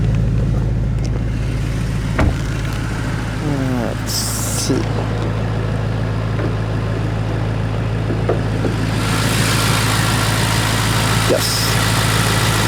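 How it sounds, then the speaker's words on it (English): A Porsche Panamera Turbo S E-Hybrid Sport Turismo engine idles with a steady low hum close by, while a person speaks briefly over it. "When I closed the door, the car started."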